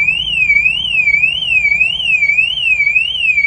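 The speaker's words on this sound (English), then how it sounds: "Apart from that intermittent car alarm, it's really peaceful" A car alarm wails in a steady, loud warbling tone that sweeps up and down in a regular cycle, sounding alone without any talk.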